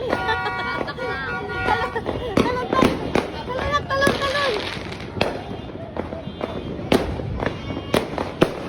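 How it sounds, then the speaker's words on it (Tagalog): New Year's Eve fireworks burst in a rapid, irregular series of sharp bangs and crackles, some close and loud, with whistling rockets rising between them as excited voices cheer and shout over the din. "Ilaw ang fireworks."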